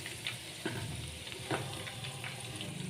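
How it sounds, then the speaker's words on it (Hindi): Chicken kofta balls deep frying in hot oil, a steady close sizzle and crackle with a few sharper pops and stirring knocks, no voices. "बाकी का जो बॉल्स हमारी रह गई है ना, उनको भी हम फटाफट फ्राई कर ले रहे हैं"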